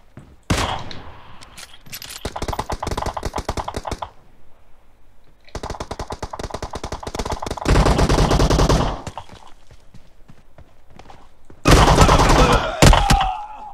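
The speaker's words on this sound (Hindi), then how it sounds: "मुझे एक बार कार 98 को इस्तेमाल करना होगा इनके खिलाफ" Gunfire crackles in a PUBG Mobile team deathmatch war mode, coming in several loud, sharp bursts of rapid shots with quiet gaps between them.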